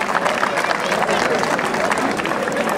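Crowd at a jaripeo rodeo in Cuautitlán de García Barragán, Jalisco, breaks into sustained applause, a dense, even wash of clapping with murmuring voices mixed in throughout.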